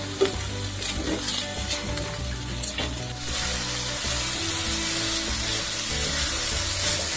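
Kesari bath rice being stirred through sugar syrup in a pan, a steady close sizzle with soft scraping and stirring strokes throughout, brightening to a louder hiss partway through, no voices.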